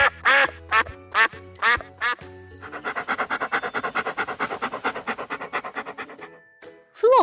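Ducks quacking in a rapid, loud burst as a dog chases them, with several sharp quacks early followed by a long run of rhythmic, evenly spaced calls close by.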